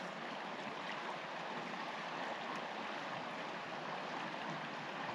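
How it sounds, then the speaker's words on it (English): Rushing river rapids roar in a steady, dense wash of turbulent water, continuous and fairly close, with no voices. "I think it was rapids, really."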